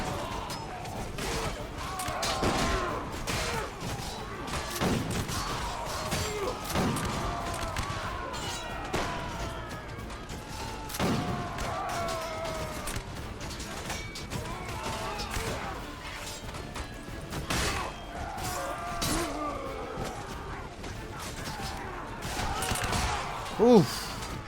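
Musket volleys crack repeatedly through a chaotic battle in a Mount & Blade Warband mod, scattered sharp shots and thuds layered over a constant din of combat noise.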